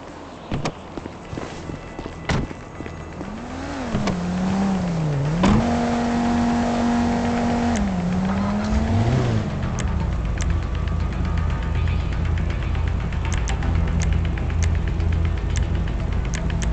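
A car driving in Grand Theft Auto V, its engine humming steadily and rising in pitch as it accelerates, with a continuous close road rumble and occasional sharp knocks.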